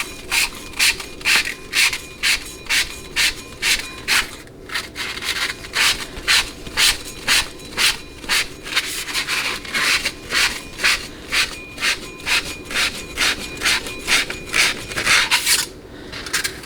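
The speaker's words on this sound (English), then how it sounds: "take some 400 grit sandpaper and then just go over it evenly" Steady back-and-forth rubbing of 400 grit sandpaper over a transmission bushing, an even rhythmic rasping of roughly two strokes per second, close and moderately loud with no talking.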